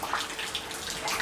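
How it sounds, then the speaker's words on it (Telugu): Water splashes and runs steadily, like a tap or pouring flow, inside a rain-flooded house kitchen during heavy rain, close and continuous with no talk. "వాన పడతానే ఉంది వానలో అయినా సరే వీడియో తీయాలని తీసేస్తున్నాను"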